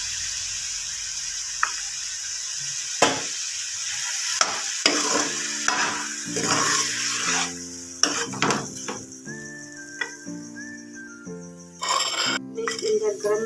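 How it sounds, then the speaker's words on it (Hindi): Tomatoes going into beef gosht frying in a pan bring loud bursts of sizzling and stirring clatter, close by, with a voice speaking and a steady tonal sound rising toward the end. "टमाटर डालने हैं।"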